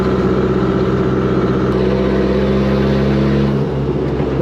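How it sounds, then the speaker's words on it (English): A chassis-swapped 1959 Mercedes rat rod with a stumbling engine runs loud and close, its steady engine drone shifting pitch partway through as it revs, with turbo whoosh noise on top. "It does cool turbo noise things."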